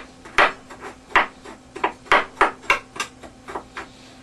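Spoon stirring a tablespoon of cinnamon into butternut squash soup ingredients in a pot, a string of about a dozen distinct knocks and scrapes at an uneven rhythm, close and clear with no voices.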